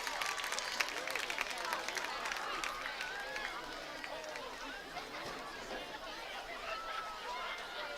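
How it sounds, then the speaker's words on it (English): A high school football crowd applauds and cheers for the homecoming court candidates, a sustained wash of clapping and chatter in a stadium with some voices mixed in. "let's give one more huge round of applause for the 2025 homecoming court candidates"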